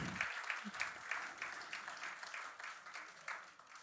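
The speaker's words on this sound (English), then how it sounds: "I would like all of you to give a round of applause to this great man" A concert audience at a singing competition finals applauds steadily, a sustained wash of many hands clapping at moderate distance with no pauses.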